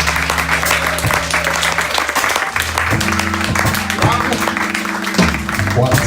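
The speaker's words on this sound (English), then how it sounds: "One, two, round of applause for Didani" An audience at a live worship gathering claps steadily and continuously after a sung performance, the dense applause sitting over a low sustained hum.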